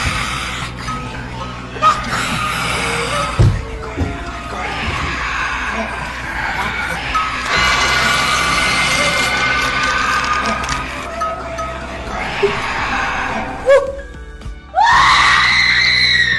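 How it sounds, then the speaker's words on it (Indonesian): Corpses screaming in a horror film, sustained shrill screams and wails over a tense, noisy soundtrack, loud and near, ending with a sharp rising shriek. "Semua mayat lain mulai menghancurkan kotak dan berteriak."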